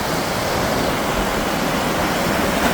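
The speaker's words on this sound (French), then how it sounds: "Ce bruit des vagues sur les rochers, l'écume" Sea waves break continuously against rocks on the Moroccan coast, a steady, dense rushing wash of foam that fills the whole moment without any pause.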